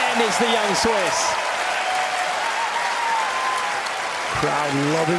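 A tennis crowd at the US Open applauds and cheers in a sustained roar of clapping, loud and continuous, with a commentator talking over it.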